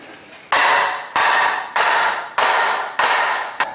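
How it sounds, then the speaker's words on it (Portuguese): Sharp, evenly spaced hammer blows drive wood into a metal frame for a dining table, six ringing strikes close by, each decaying before the next, with no talk. "Ao invés de bater no metal para ele encaixar na madeira, eu vou bater na ponta oposta."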